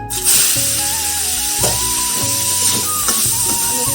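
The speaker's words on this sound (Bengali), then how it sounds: "আলু ফুলকপিটা ভেজে নেব" Cauliflower and potato pieces sizzle and hiss steadily in hot oil, a loud close frying noise with faint clinks over a low musical hum.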